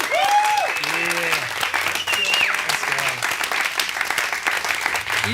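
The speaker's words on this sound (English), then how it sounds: "let's give them a round of applause" An audience at an expedition return party applauds the support staff team with steady, loud clapping from many hands, punctuated by cheers and whoops, with voices calling out over the applause throughout.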